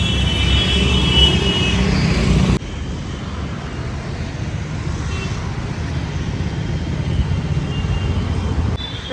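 Busy road traffic near AIIMS hospital rumbles on as a loud, continuous wash of engine drone and tire noise, close and unbroken, with a brief shift in tone partway through.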